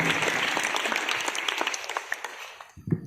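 An audience applauds at an Independence Day celebration at a school in Dehradun: thick, close clapping that tapers off near the end, where a voice begins.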